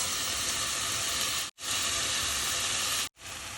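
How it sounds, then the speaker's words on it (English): Onion, celery and leeks sautéing in a pan give off a steady, close hiss of frying, broken by two brief silent gaps. "So the onion and celery are sauteing."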